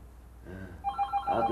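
A telephone rings with a repeated electronic trill, clear and close, in a comedy sketch scene, with no talking over it.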